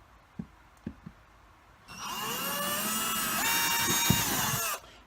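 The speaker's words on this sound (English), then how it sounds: "Just drill the holes." A power drill bores a hole into drywall, a loud close whine that rises and holds for about three seconds and then stops abruptly, after a few sharp knocks and clicks.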